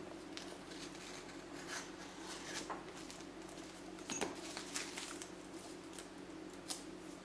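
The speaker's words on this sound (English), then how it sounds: "again with my knife, I'm going to go ahead and cut out on that red oval" A craft knife cuts an oval shape out of paper for a stamped oval box: faint, close scratchy scoring strokes in an irregular rhythm over a quiet room hum.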